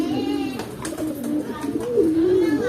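A pigeon coos nearby, a soft low warbling call with rising and falling inflection, repeated in a loose rhythm over faint background noise.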